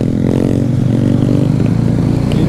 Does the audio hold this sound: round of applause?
no